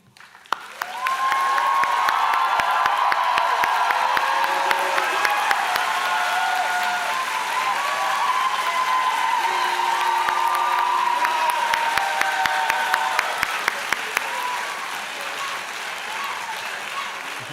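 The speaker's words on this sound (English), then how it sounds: "I know that this will get a huge round of applause" A large convocation audience at a business, media and entertainment school applauds the faculty as they stand, sustained loud clapping with scattered whoops that holds for about fourteen seconds before easing off.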